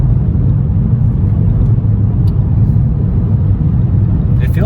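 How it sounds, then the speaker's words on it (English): Steady low road rumble and tire noise inside a moving car with a K24 engine, a constant dense drone filling the whole stretch, with a faint brief rattle near the end. "Do you think there's a little more road noise than usual?"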